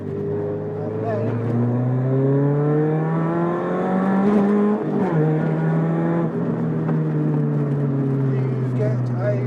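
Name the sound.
Renault Clio 172 engine accelerating after downshift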